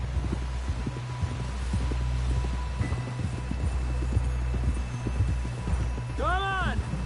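A horse's hooves clip-clop in Red Dead Redemption 2 as it carries a rider toward a camp. The hoofbeats are steady and rhythmic over a low rumble, with a short whinny near the end.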